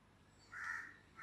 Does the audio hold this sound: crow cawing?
yes